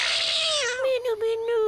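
A cartoon cat gives a long, drawn-out meow that slides downward in pitch, loud and close, filling most of the short moment.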